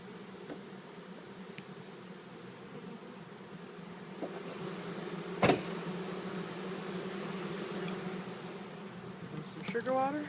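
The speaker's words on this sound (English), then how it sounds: "Lots of bees flying around." Honey bees buzz steadily around a Warre hive during installation of a package colony, a continuous low drone with a few louder close passes and a sharp knock midway, with faint talk at times.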